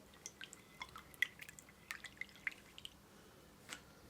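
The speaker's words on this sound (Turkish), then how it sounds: "Öncelikle malzemelerimizi bir karıştıralım." Flour, sugar, salt and yeast are stirred together in a bowl, giving faint, scattered light clinks and ticks at irregular intervals, close by and quiet.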